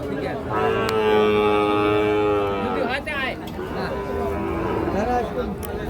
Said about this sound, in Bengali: চারটে বাছুর আছে ভাই